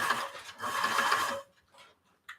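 Home sewing machine stitching fast and steady for about a second and a half, then stopping, with a few faint mechanical clicks and a brief burst of handling afterward; close and moderately loud.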